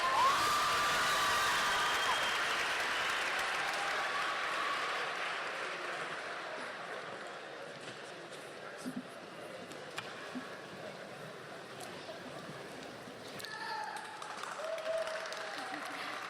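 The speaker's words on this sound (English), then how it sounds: "give her another round of applause" A graduation crowd at University High School Academy applauds, a broad clapping wash that is loudest at the start and gradually fades to a quieter, thinning patter, with some voices and cheers mixed in.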